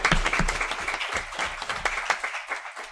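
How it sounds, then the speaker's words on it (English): A round of applause from the audience at a school board meeting, honoring an absent person; steady clapping from a moderate crowd with some louder individual claps, close and sustained, with no talk over it. "So so we can give her a round of applause, even though she's not here."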